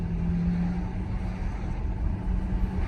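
Racing cars at full speed during the Tour Auto, France's historic road rally, a steady engine roar and road noise filling the background throughout, fairly loud and continuous with no distinct pass-bys.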